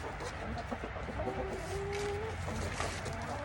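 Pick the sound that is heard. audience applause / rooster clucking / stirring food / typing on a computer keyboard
rooster clucking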